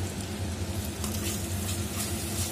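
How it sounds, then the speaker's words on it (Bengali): Cashew and raisin paste sizzles steadily in a hot pan while cooking a Bengali katla fish kalia, a continuous close frying hiss with no talk. "এরপর দিয়ে দেবো কাজু আর কিশমিশ বাটা"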